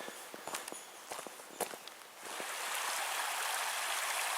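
Footsteps crunch along a forest trail toward a river crossing on the Little Carp River, then a steady rushing stream takes over, loud and close once the water is reached.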